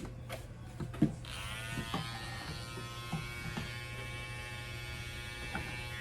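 A cordless Andis T-Outliner hair trimmer buzzes steadily at close range during a home haircut, trimming around the lip and neck, with a constant hum and small clicks and scrapes as it moves.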